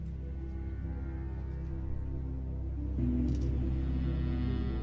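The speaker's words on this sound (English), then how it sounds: "the cockpit looks and sounds like this." Airliner cockpit ambience, a steady low engine and airflow rumble with a constant hum, loud and unbroken, growing slightly fuller partway through and joined by a faint brief tone near the end.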